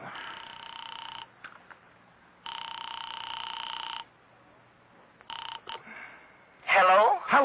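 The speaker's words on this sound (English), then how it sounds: "I am actually ringing at North Takaloma 3" Telephone dialing tones sound in a classic radio detective drama, with steady beeps in long and short bursts, followed by a brief voice close by at the end.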